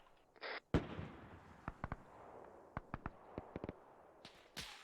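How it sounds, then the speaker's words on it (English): An anti-tank gun firing in a WWII combat video game set around Tobruk: a series of sharp, fairly distant bangs and cracks spaced irregularly over a quiet background, with a couple of louder thumps at the start and end. "Negative, that'll be the AT gun firing on our position."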